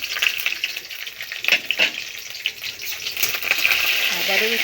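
Garlic added to hot oil with nigella seeds and dried red chilli for a tempering: a loud, close, crackling sizzle with a few spoon scrapes and a small metallic clink.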